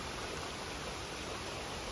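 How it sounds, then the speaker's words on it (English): A small waterfall beside the Appalachian Trail in Pennsylvania makes a constant, even rush of falling water. It sounds somewhat distant and faint, with no voices over it. "Got a little waterfall down there."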